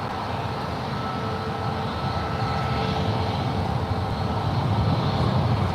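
A British Airways Boeing 777-300ER at San Francisco International Airport, bound for London, moves toward the runway with a steady, loud jet-engine roar that stays even throughout.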